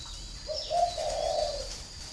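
A caged spotted dove gives one short soft coo, a single low hooting phrase rising then trailing off, heard close against quiet background.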